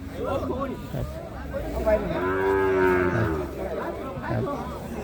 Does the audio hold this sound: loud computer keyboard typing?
no